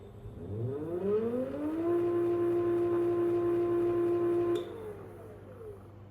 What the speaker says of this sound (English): The motor is going to spin up.